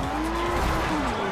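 Inside a car in Forza Horizon, the engine drones loud and steady from the cabin in wet weather, a rising and dipping tone with tire and road noise beneath.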